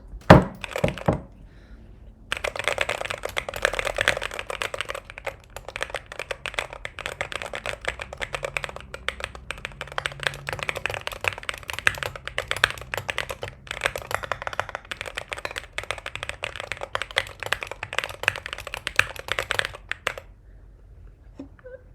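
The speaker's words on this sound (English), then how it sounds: "This was the keyboard I started streaming with, and oh my god, it sounds," Rapid typing on a mechanical keyboard fitted with Glorious Panda switches and modded with painter's tape and foam inside, heard up close as dense, continuous thocky clacks for about twenty seconds after a brief pause.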